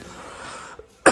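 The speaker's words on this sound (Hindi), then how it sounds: "तो खांसी भाई।" A single short, sharp cough bursts out near the end after a stretch of quiet background murmur.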